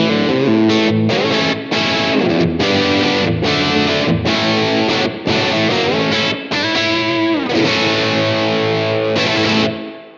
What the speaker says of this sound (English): So a really, really great sounding overdrive.